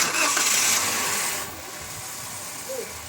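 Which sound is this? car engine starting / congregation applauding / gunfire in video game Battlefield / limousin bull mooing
car engine starting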